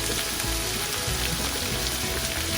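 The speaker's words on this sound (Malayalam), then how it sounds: "അതും കൂടി ഇട്ടിട്ട് നമുക്കൊന്ന് നന്നായിട്ട് വഴറ്റിയെടുക്കാം" Sliced onions with ginger and garlic sautéing in a hot pan for egg puff filling, a dense, constant loud sizzle and crackle heard up close without any speech.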